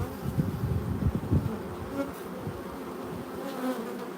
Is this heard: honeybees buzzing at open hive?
yes